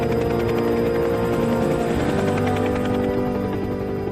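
Helicopters landing and refuelling at a wildfire base in Australia, a steady loud rotor and turbine roar filling the whole stretch without let-up, no voices over it.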